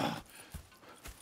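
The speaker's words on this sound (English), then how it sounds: "Go check the horses are ready." Horses in Red Dead Redemption 2 give a few spaced hoof thuds and soft snorts close by, with a short burst of noise at the start and no speech.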